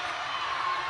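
A netball crowd at a 2011 Queensland State Netball League match yells out together in a steady, distant wash of voices. It sounds like a broad roar with no single voice standing out.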